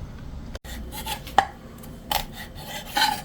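Knife slitting the backs of frozen whiteleg shrimp to devein them, giving soft scraping strokes with a few sharper cutting clicks against a board, close and fairly quiet, with no talk.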